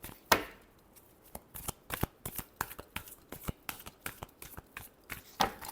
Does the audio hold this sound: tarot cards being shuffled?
yes